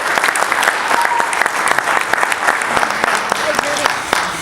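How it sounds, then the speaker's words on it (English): An audience at a Missouri bluegrass awards ceremony gives a big round of applause, sustained and fairly loud, many hands clapping with sharp individual claps standing out throughout. "So give them another big round of applause."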